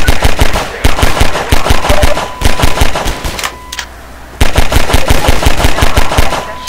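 Loud, rapid automatic gunfire from the Half-Life 2 video game comes in long, fast bursts with a brief pause in the middle, close and dominant throughout.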